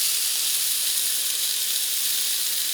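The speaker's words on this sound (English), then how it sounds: "we're going to just put this straight on a hot skillet" Lamb chops sizzling on a hot skillet, a steady, dense hiss of frying fat that holds level throughout with no talking.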